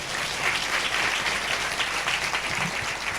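Church congregation clapping steadily together during a Sunday service, a dense, continuous wash of applause filling the room at moderate loudness, with no voices standing out.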